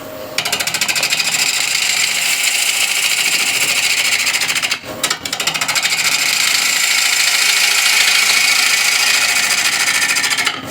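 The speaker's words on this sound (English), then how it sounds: "To rough this down, I'm going to use this 16mm ball gouge." A 16mm GURTOOL ball gouge roughs down a spinning wood blank on a lathe, making a loud, continuous gritty scraping and chattering that breaks off briefly midway, then resumes just as steadily.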